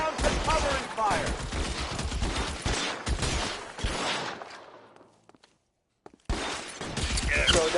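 Covering gunfire in the crime game L.A. Noire, bursts of shots crackling amid voices and footsteps, trailing off into a brief silence before more loud shots resume.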